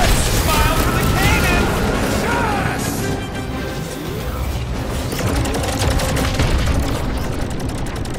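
Dense, chaotic battle noise from cannon fire in Guardians of the Galaxy, with booming blasts and crashes layered under constant shouting voices, loud and continuous throughout.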